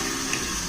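Water runs steadily from a kitchen sink faucet in a house, a constant close hiss with no talk.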